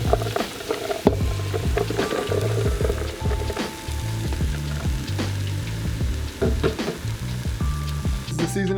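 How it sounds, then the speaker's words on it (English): Diced vegetables sizzling in a greased pan for a stew, a constant loud crackling fry near the microphone with occasional scrapes and light clatter as they settle. "I'm gonna throw our diced veggies in here like that."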